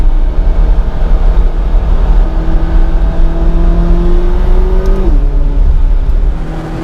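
A McLaren 570GT accelerating hard in a straight line on a volcano road, heard from inside as a loud, rising engine drone that climbs in pitch for several seconds before dropping sharply at a gear change, with no talk.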